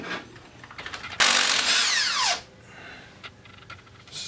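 Power tool spinning off the two half-inch brake caliper bolts on a 1997 Polaris Sportsman ATV, one loud close whirring burst of about a second with a falling pitch as it winds down.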